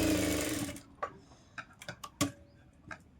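Sewing machine stitching a blouse sleeve seam, a dense whirring run that stops after under a second, followed by several separate clicks and taps of handling the fabric.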